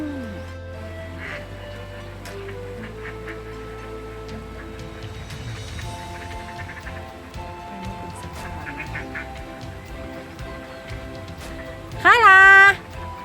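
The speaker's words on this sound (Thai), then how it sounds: "เป็ดกำลังเล่นน้ำนะคะ" Ducks playing in a pond of flowing water among lotus plants, with a quiet ambient background and then a short, loud burst of quacking near the end.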